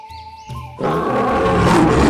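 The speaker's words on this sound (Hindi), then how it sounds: "जीवित होते ही उस शेर ने बहुत जोर से दहाड़ मारी।" A lion gives a loud, sustained roar in a cartoon story, bursting in abruptly after a short quiet lead-in of faint tones and holding at full strength to the end.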